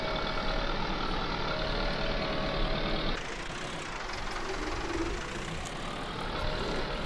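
A tractor engine with nothing hitched behind runs steadily nearby, a continuous low droning hum that drops in pitch and tone partway through and keeps going without a break.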